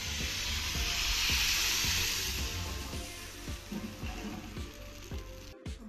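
Rice batter for palappam hits a hot appam pan and sizzles loudly and steadily, fading slightly as it is swirled, with faint scraping clicks near the end.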